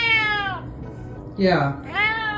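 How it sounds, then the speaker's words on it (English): A loud cat gives two drawn-out meows, one at the start and another near the end, with a brief spoken word in between. "He's a loud cat."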